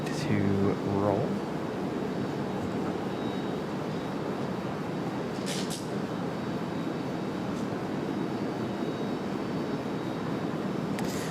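A Frontier Airlines jet in Fox livery rolls for takeoff at Raleigh-Durham airport, a steady broad engine roar holding level throughout, with a brief voice near the start.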